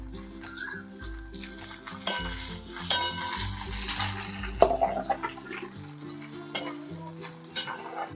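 Onions and half a chopped tomato fry in a pan for a wild-leaf vegetable curry, with steady sizzling under repeated spoon stirring and scraping, plus occasional metallic clinks against the pan, close and continuous with no talking.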